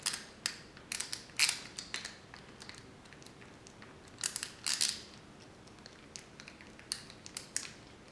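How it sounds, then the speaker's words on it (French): The center screw of a speed cube is turned into the core, giving faint, close clicking and scraping in short irregular bursts separated by brief pauses. "vous pouvez visser entièrement le cube"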